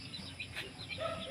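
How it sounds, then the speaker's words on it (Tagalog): Hens on a Filipino backyard farm cluck softly and intermittently over a low background murmur, with one brief sharper squawk near the middle. "Ayan po yung mga inahin."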